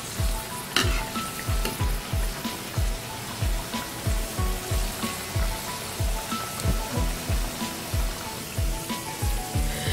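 Pakoras fry in oil over a medium flame for kadhi pakora, a continuous bubbling sizzle with regular soft thumps and stirring knocks, close and steady throughout.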